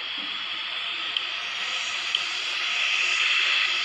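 Steady broadband roar of airliner engines spooling up for takeoff in Real Flight Simulator, an Air France jet on runway 08 right, a constant loud hiss-like drone that swells slightly toward the end, with no talk.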